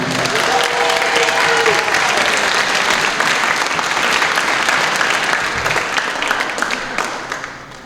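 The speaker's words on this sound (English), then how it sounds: "One more round of applause for Janisha, please." Sustained loud applause from a large crowd at a student award ceremony, a dense continuous roar of clapping that holds steady for several seconds before tapering slightly at the end.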